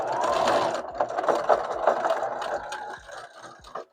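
Sewing machine stitching a wig, a quick rattling whir of the needle with short mechanical ticks and stops, fairly quiet and close, with no talking.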